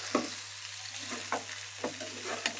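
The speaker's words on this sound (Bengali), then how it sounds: "আর এই জায়গায় মাছ ভাজি করে নিচ্ছি।" Fish frying in a pan, a steady sizzle with a low mains-like hum beneath and four or five sharp scraping clicks of a utensil spaced through the stretch, no voices.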